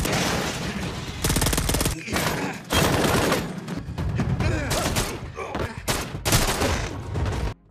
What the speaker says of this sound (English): leading to a shootout between them.